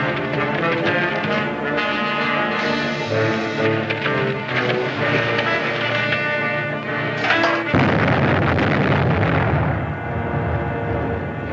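A deep cannon boom bursts out partway through, over a continuous dramatic musical backdrop.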